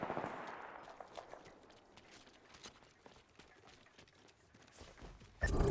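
Gunfire in Apex Legends, rapid sharp shots crackling at moderate distance in quick bursts, beginning over a rushing noise and ending with a louder, nearer blast.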